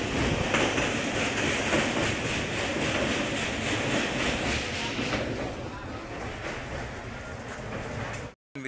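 Jhelum Express train at Pathankot station, a dense, loud rumble of rolling carriages and wheel clatter that fills the whole stretch before cutting off abruptly near the end.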